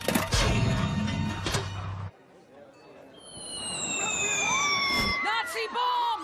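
A cartoon bomb dropped by Nazi planes over London falls with a long, descending whistle that glides downward for a couple of seconds, following a loud, noisy burst and a brief quiet gap.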